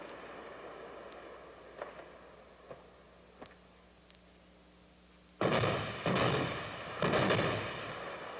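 AMX-30B2 main battle tank gun firing at night targets: a few low ticks, then from about 5.4 s two or three heavy, loud booming blasts with rumbling tails, close by and with no talk.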